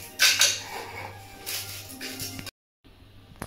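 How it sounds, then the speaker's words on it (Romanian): Wholemeal biscuits whirring and rattling in a food mixer as they are crushed for a chocolate cake base, loud grinding bursts with clinks, then a sudden cut to near silence and faint handling. "Vom mărunți biscuiții"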